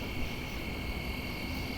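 Steady, dense chorus of crickets, grasshoppers and katydids chirping continuously at night, a constant high buzzing drone with no voices.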